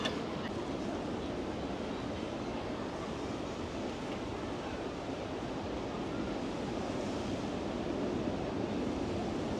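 Sea waves wash onto a beach in Bali as a steady, loud, unbroken surf roar, mixed with wind buffeting the microphone.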